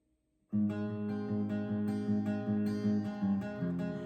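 A guitar plays the verse of a song, starting after a short silence with close, clear strummed chords in an even rhythm and no voice.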